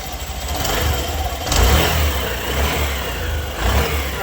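A Honda Activa BS6 scooter engine runs just after starting, a close, loud steady hum with a couple of brief throttle swells.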